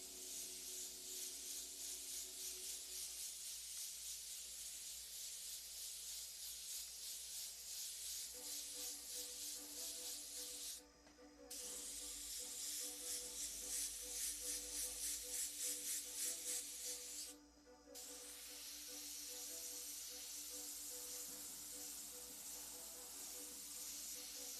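An airbrush sprays paint in a long, steady hiss that cuts off twice briefly before resuming, close and continuous with no voices.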